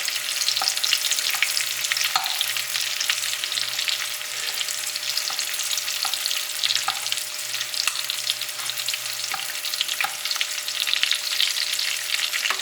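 Steak sizzling loudly in foaming butter with rosemary while being basted, a dense bright continuous frying hiss with regular soft spooning taps and splashes, close and steady, no voices.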